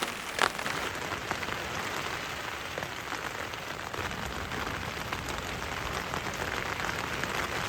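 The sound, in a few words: rain falling on a one-person tent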